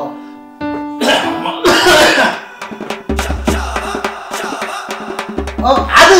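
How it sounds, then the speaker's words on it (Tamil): Several coughs and throat clearings at intervals, loud and close, mixed with clicks, music-like tones and low rumbling. "இந்த படத்துல இருமுற சத்தம்"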